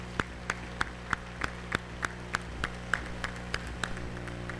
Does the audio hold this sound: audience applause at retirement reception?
yes